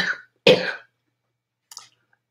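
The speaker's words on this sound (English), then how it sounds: "I'm sorry if I coughed on you." Two coughs from a lecturer, a soft first one and a louder, harsher second, with a faint throat sound trailing after; no talking.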